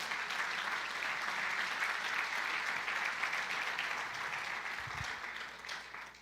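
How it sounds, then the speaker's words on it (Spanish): A church congregation applauds during a Spanish-language sermon, a dense, even roar of clapping that holds steady and then gradually fades toward the end, heard at a moderate distance. "Démosle un aplauso al Señor por eso."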